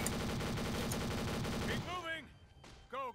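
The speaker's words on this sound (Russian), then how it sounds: "Пулемет что-то не дамажит." Dense rapid machine-gun fire from Warcraft 3 hammers steadily for under two seconds, then breaks off into scattered game sounds and short tonal effects.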